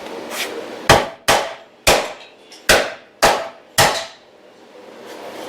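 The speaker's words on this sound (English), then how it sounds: "taking the air hammer and just knocking them off" An air hammer knocks rivets off a 1966 Chevrolet C10 truck frame, six loud sharp metallic strikes in steady succession, each ringing briefly before fading, close and without talk.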